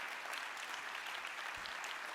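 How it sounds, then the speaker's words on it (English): An audience at a closing plenary of an autumn annual meeting claps in steady, dense applause, a continuous wash of hands without voices, heard at moderate volume. "please stand and give yourself a round of applause"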